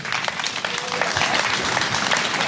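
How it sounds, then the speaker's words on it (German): A crowd at an outdoor street demonstration for peace and social justice claps steadily at a moderate distance, with a continuous wash of applause and scattered sharper claps. "Einen großen Applaus aus der Mitte für Sie heute hier,"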